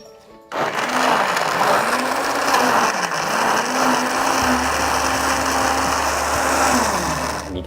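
A blender whirs steadily as it purées chilies and turmeric with water for a Southern Thai sour curry, its motor starting abruptly, holding a loud, even grind and shifting pitch slightly as the contents churn.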